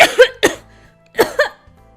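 A video game character coughing after gulping down a mouthful of bacon, egg and toast: several sharp, close coughs in two quick bursts with a brief pause between, no talk.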